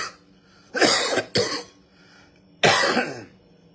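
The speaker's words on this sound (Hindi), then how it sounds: "खांसी हो गई बहो।" A person coughs and clears their throat in three harsh bursts, close and loud, with quiet pauses between them during a Hindi live stream.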